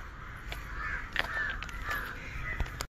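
Crows cawing repeatedly in dense forest around Belapur Fort at evening, several harsh calls spaced across a few seconds over a steady outdoor background, moderately near and clear with no talk.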